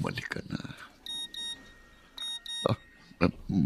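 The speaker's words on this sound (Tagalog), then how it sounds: "May nag-text sa cellphone ko." A mobile phone sounds a text message notification as two short bursts of bright repeated beeps, clear and close, with people speaking before and between them in a drama scene.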